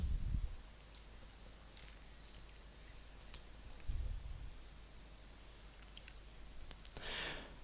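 A computer mouse clicks on OK in SPSS statistics software. A few faint, sharp, isolated clicks sound against a quiet room, with soft handling rustles between them.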